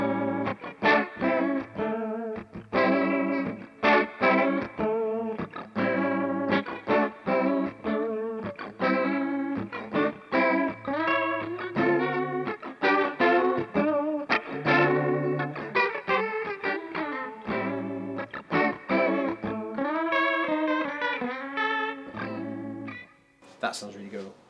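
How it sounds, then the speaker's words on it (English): An electric guitar plays chords and melodic lines through a Sonicake multi-effects pedal's Leslie rotary speaker effect with reverb, warm and sustained, for a long continuous passage. "let's see what the Leslie sounds like with with the reverb"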